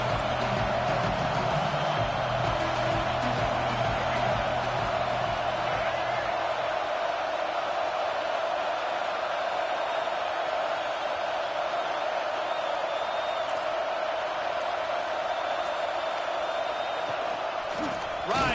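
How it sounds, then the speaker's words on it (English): Football stadium crowd at a UCLA game roars steadily against the opposing offense, a dense sustained wash of noise that stays loud throughout with some louder swells early on. "This crowd trying to make life miserable for this offense."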